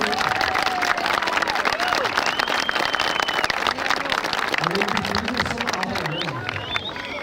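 An audience at an aviation day event applauds after a talk by astronaut Colonel Marcos Pontes. Loud, dense clapping mixes with crowd noise, scattered cheers and chatter, easing slightly toward the end.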